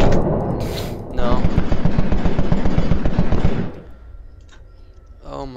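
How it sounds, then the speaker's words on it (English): Rapid, loud bursts of gunfire in the video game SCP: Containment Breach rattle for a few seconds, then cut off to near quiet. "Oh, I hear gunshots."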